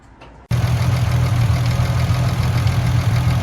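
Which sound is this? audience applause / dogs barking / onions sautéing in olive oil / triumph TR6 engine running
triumph TR6 engine running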